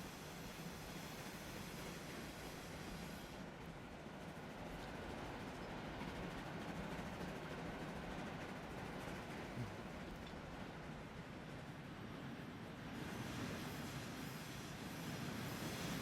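Train rolling steadily along rails in the Transport Fever 2 simulation game, a continuous low rumble and clatter with a faint squeal, sustained at even loudness throughout with no talking.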